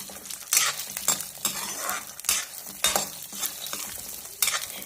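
Peanuts and garlic dry-roasting in a pan for chutney, a series of scraping stirs and rattles against the pan every half second or so over a quiet background, close and clear.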